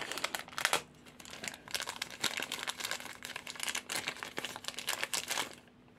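Crinkling of a small plastic surprise-toy packet being handled, continuous rustling and crackling close up with sharp bursts, no talking.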